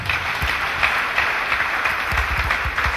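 A church congregation claps steadily throughout a deliverance service, a dense continuous patter of many hands with no voices standing out.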